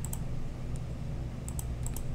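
Computer keyboard keys tapped while setting up colors for a multi-color 3D print, a few sparse crisp clicks over a steady low hum, close and fairly faint.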